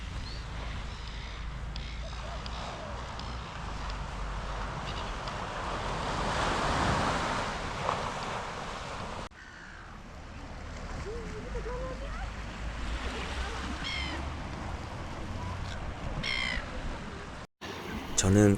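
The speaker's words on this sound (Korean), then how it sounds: "잠시 파도 소리 한번 감상하고 가시죠." Ocean waves wash steadily onto the shore at Phillip Island, a broad continuous surf roar with wind, occasional bird calls and brief voices in the background.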